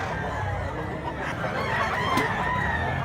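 Roosters crow at a livestock market in Mantalungon, Cebu, amid clucking fowl and a busy background of chatter and crowd noise.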